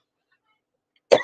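A single short cough bursts out after a stretch of near silence, close and fairly loud.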